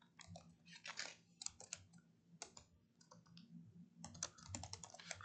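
Bursts of computer keyboard typing in irregular clusters of clicks during a finance class on capital structure, fairly faint, over a steady low room hum.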